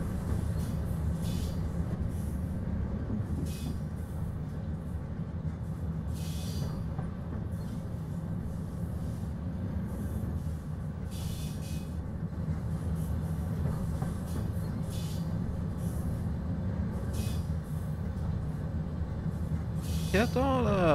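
A CFR Class 47 locomotive in Train Simulator Classic rolls steadily with a continuous low rumble and faint wheel clatter, and a brief squeal rises near the end as it pulls in.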